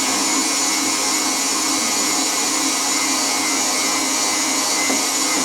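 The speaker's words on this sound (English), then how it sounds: "So I'm just gonna give this a whisk for" An electric whisk beats Swiss meringue buttercream in a bowl, giving a steady, loud motor whir that stays constant throughout without any speech.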